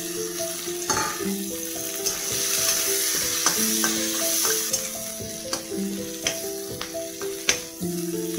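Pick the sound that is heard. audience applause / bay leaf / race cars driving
bay leaf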